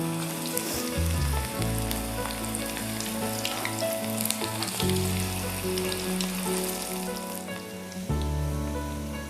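Cabbage pieces frying in hot oil over a medium flame, with a steady, loud, close sizzle and crackle running the full length and surging as more is dropped in.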